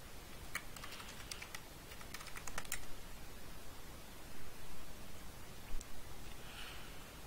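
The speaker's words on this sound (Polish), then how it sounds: "Wpisujemy domyślne hasło lub jeśli zostało one przez siebie zmienione, po prostu je wpisujemy." Someone types a password on a computer keyboard while logging in to a Raspberry Pi. Two short bursts of quick, light keystrokes sound close up over a quiet room, followed by a few scattered taps.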